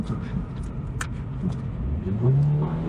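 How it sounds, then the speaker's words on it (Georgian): A 2023 Subaru BRZ with a 228-horsepower engine accelerates, its engine note rising to a steady climbing whine near the end, heard from inside the car with a faint voice early on. "საკმაოდ კარგია აჩქარებაში ეს მანქანა."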